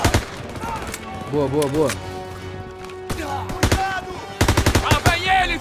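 Bursts of machine gun fire from a WW2-era Call of Duty battle on the Normandy D-Day beach, loud rapid volleys broken by gaps, with someone shouting orders in Portuguese between them.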